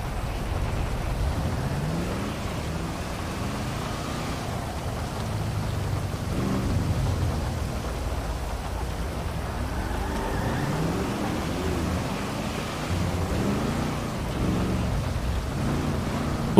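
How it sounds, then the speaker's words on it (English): Heavy rain pours steadily in a thunderstorm in the FiveM game, with low rolling thunder rumbling underneath and the hum of a car engine mixed in throughout. "That storm is hot and heavy."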